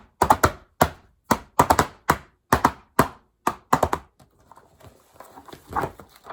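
A tom-tom drum is smacked by hand in a quick, uneven run of sharp, loud thumps with short gaps between them. The hits then stop and a quieter, softer rustling sound follows.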